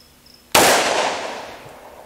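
A single loud shot from a Bond Arms Rough and Rowdy .410 shotgun cracks sharply after a quiet moment, followed by a long, decaying reverberant tail.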